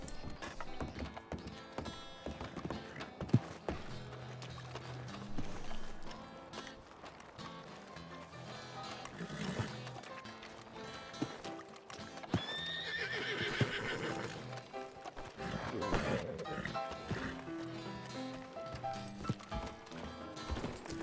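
In the Western game RedM, a horse clip-clops along at a steady ride and gives a few whinnies partway through, heard under a busy game soundscape with fairly quiet, rapid hoofbeats.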